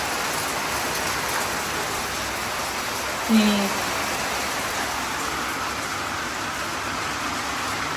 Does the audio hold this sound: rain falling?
yes